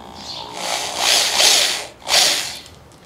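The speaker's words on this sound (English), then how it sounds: "a little small drill" A small power drill whines steadily in two bursts against metal, rising and falling with a brief pause between, close and fairly loud.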